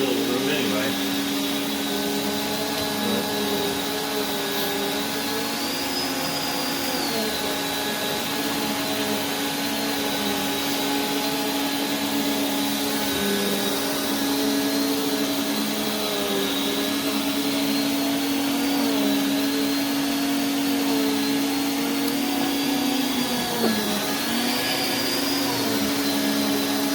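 A Prolux CTX water vacuum runs steadily indoors for the whole stretch, a constant loud whine with a slight wavering pitch, and a person speaks briefly over the motor drone.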